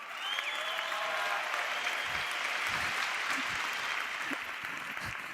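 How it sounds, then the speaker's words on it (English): An audience claps at a comedy show, a dense sustained burst of applause filling the room, steady and fairly faint, with a few low thumps underneath. "some dude was clapping for it"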